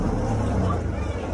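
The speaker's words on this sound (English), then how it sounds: "Really loud. The van's on through." A van passing outside, a loud low rumbling engine and road roar that holds steady and close for the whole moment, with no talking.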